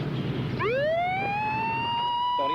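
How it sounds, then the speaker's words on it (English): A police siren wails up into a rising tone and holds, loud and close, with a second sweep starting at the end. "Get ready to turn on the siren."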